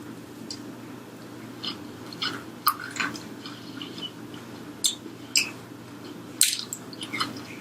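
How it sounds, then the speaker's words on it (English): Crunchy Popeyes fried chicken being chewed up close, with sharp crackling bites and wet smacking in an irregular rhythm over a steady low background hum, no talking. "I love this crunchy end part"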